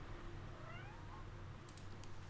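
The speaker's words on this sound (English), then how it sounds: "Good cat." A cat giving one faint, short meow, quiet and somewhat distant against a low, steady background hum.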